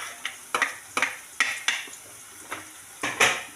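Onion, green chili, garlic and ginger are sautéed in a pan, with a soft sizzle under about eight sharp, rhythmic clinks and scrapes of a spoon stirring against the metal, up close.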